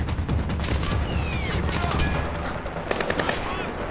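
Gunfire in the stealth shooter Splinter Cell Blacklist: a dense, continuous stretch of rapid automatic shots with sharper bursts near the end, loud and close, with some game noise mixed in.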